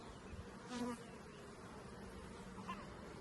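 Honeybees hum steadily at a newly opened split hive where the comb is being built downward, a close continuous buzz with an occasional louder bee passing by.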